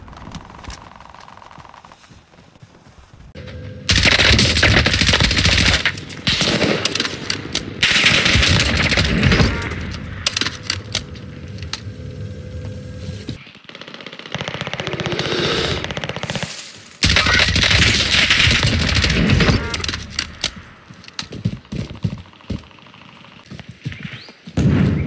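Sustained automatic bursts from an M4A1 rifle in a shooter game, several long loud volleys separated by quiet gaps and a few single shots.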